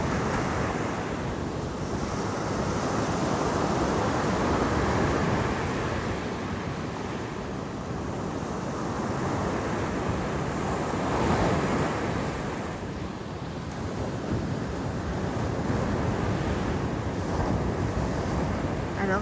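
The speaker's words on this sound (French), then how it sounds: "La mer est déchaînée, mais il fait bon." Rough, churning sea breaking onto the beach at Port Leucate, a loud continuous roar of surf with swelling waves that rise and fall over the whole stretch, no voices.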